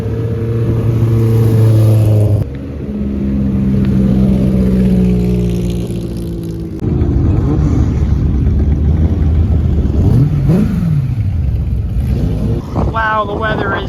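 Race car engines at the Drive Festival 2024 car event rev loudly in repeated rising and falling bursts, with sharp pitch sweeps near the end, heard up close over a busy outdoor crowd with people talking nearby.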